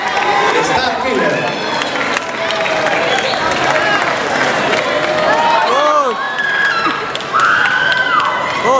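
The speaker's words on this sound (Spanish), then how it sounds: "Escuchen los aplausos, vamos." An audience at a cosplay presentation during Lima Comics 2011 cheers and shouts loudly, with children's voices, excited chatter and scattered clapping running throughout.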